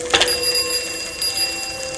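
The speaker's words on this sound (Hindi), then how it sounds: "थोड़ा आगे जाने पे मुझे पीछे से एक साइकिल की घंटी सुनाई दी।" A bicycle bell rings behind a slow-moving bicycle on a village road, one bright metallic ring with a sustained shimmering tone that decays over about two seconds, followed by a softer second strike.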